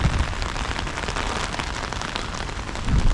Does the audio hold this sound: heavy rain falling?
yes